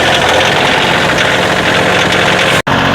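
A tractor engine runs steadily at idle with a dense, continuous mechanical drone and a faint knock, close and loud, cutting out for a split second near the end before resuming.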